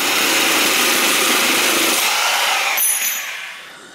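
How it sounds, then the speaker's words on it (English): A Milwaukee Sawzall reciprocating saw cuts through a stuck bicycle seat post in a frame, making a loud, continuous rasping buzz close by. It drops in pitch and tapers off toward the end, with no talking. "I'm going to just go ahead and cut this right off here like this"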